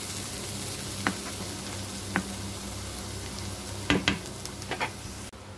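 Spice paste for a bottle gourd and fish curry fries in a pan, a constant close sizzle broken by a few scraping stirs and clicks of the spatula.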